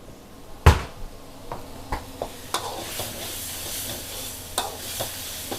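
Food sizzles in a hot new wok while a metal spatula scrapes and clanks against it in irregular stir-frying strokes, one loud clang near the start.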